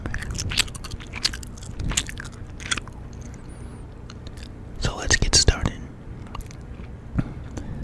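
Close-up gum chewing with wet, crunchy bites and mouth clicks scattered through, alongside soft whispered speech in a quiet room.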